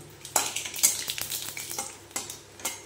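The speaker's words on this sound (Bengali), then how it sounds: "গোটা গরম মশলা, দারচিনি, এলাচ, লবঙ্গ আর একটু সামান্য একটু জয়িত্রী ফোড়ন দিয়ে দিলাম" Whole garam masala, cinnamon, cardamom, cloves and a little mace temper in hot oil, a close crackling sizzle broken by sharp spoon-and-pan clinks and stirring scrapes, with no one talking.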